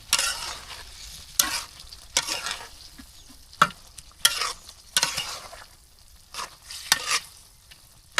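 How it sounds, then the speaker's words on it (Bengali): Raw plantains being stirred through spices frying in oil over a clay village stove, with repeated bursts of spoon scraping and crackling sizzle separated by quieter frying pauses. "একটু নাড়াচাড়া করে দিলাম।"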